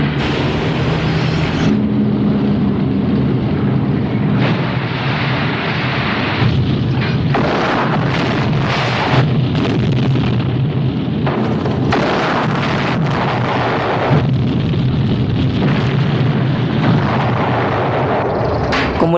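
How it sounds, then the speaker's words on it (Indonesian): Fuel depots blow up one after another in a wartime attack on Tobruk, Libya, a loud continuous roar of heavy booms and rumbling blasts that pile on each other without letup. "menghancurkan satu persatu depot bahan bakar, hingga ledakan maha dahsyat pun terjadi bertubi-tubi"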